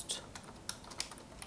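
Computer keyboard typing while writing Laravel code: a few light, scattered keystrokes at close range, with a quiet room in between and no talking.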